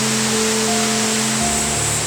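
Bidulginang waterfall on the Hantan River in Pocheon, with blue water falling over columnar-jointed cliffs. A loud, even, full-band roar of falling water, with faint low steady tones beneath it.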